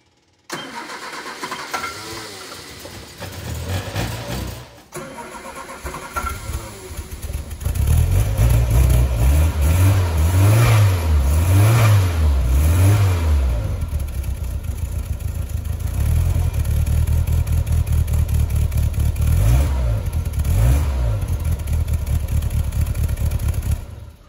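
A Triumph 1500-powered MG Midget is cold-started: the starter cranks briefly, then the engine catches and climbs into a loud, close idle, rising and falling through repeated revs before settling into a steady rumble.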